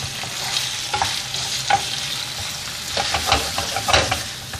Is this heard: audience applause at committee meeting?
no